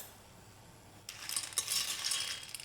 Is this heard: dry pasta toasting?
yes